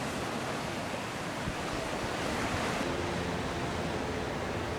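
Ocean surf rolls steadily at La Jolla beach in San Diego, a dense, continuous wash of breaking waves mixed with wind, with no voices.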